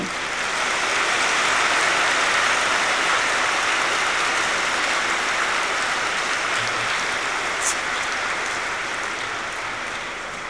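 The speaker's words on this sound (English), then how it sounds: "You can clap loudly." A large seated audience at a spiritual gathering claps continuously, a dense, rain-like patter of many hands that stays loud and even before easing slightly at the end.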